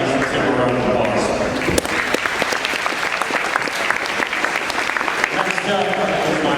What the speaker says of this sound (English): Congrats to our basketball signees and take a round of applause